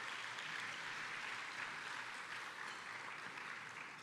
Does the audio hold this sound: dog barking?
no